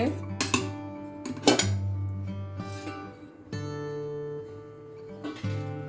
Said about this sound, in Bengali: এই যে খুলে নেব ঢাকনাটা